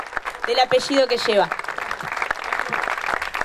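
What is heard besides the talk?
applause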